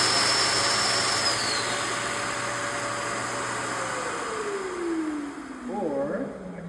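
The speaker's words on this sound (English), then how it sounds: "Turning this on, this trigger here, I can click this on and I can rev it." A Domino joiner's motor is switched on and revved, giving a steady close whine and hum that holds and then winds down as the pitch falls.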